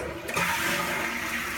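A toilet flushes right after its flush handle was repaired, a sudden loud close rush of water that stays strong and steady for over a second.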